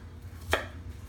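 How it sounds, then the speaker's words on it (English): One sharp knife chop cuts through a shallot on a cutting board, a single brief, close knock over quiet room tone. "I'm just going to roughly chop it."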